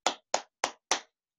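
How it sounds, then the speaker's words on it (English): Four sharp hand claps in a steady, even rhythm, close and crisp, each with a quick decay into silence. "I would clap my hands."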